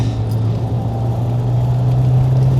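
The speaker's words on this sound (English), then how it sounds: "I'm gonna brake hard" Toyota AE86 with a 4A-GE engine and six-speed gearbox braking hard on a mountain touge road, its engine holding a steady close drone with road rumble beneath, no voices.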